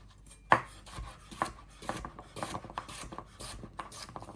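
A knife slices sweet potato thinly on a cutting board for a duck parmentier, giving a close, irregular series of sharp chops, one louder strike first and then quicker lighter cuts, with no voices.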